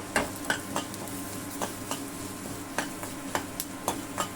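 Urad dal, fenugreek, coriander seeds, cumin and asafoetida dry-roasting in a pan, with regular scraping clicks of a spatula stirring over a faint, low sizzle.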